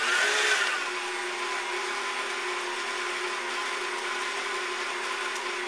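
An electric stand mixer churns cheesecake bar batter of cream cheese and flour, a steady even motor whir holding at constant pitch throughout, close and alone with no talk.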